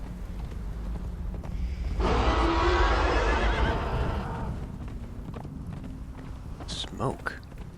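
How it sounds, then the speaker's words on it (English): An undead horse in the video game Conan Exiles gives a loud, drawn-out neigh lasting about two seconds, with footstep-like thuds and a brief squeal afterward. "Undead horse."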